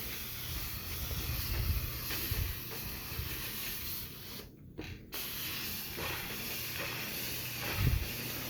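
Steady, loud hiss of a handheld steam cleaner on a bedbug-infested mattress runs throughout, briefly cutting out for a moment in the middle before resuming.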